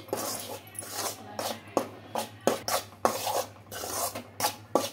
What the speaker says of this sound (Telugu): బాగా ఒక 5 నిమిషాలు బాగా ఫ్రై చేసుకోవాలండి